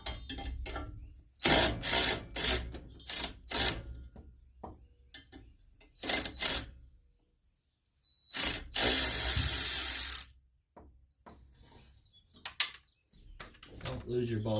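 A ratchet with an 8mm socket works a mower deck bolt on a John Deere LT180 riding mower. Short bursts of quick clicking come in several separate spells with quiet gaps between them, and a longer run of clicking follows near the end.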